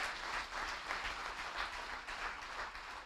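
Church congregation applauding together: a dense, steady wash of clapping with slight pulsing swells, moderately distant, no speech.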